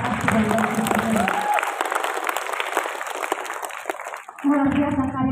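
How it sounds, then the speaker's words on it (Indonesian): Audience applause for the aspirants at a church prayer service and mini concert, clapping steadily for several seconds and mixing with crowd voices before tailing off as a voice resumes. "Dari kita tepuk tangan dulu untuk para aspiran dan aspiran."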